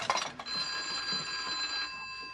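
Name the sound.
telephone ringing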